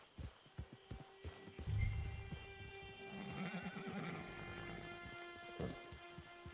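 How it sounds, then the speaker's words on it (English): A horse in the video game Red Dead Redemption 2 gives a soft whinny amid quiet, scattered hoof clops and light ambient patter, with the sounds at a low level. "It's your horse."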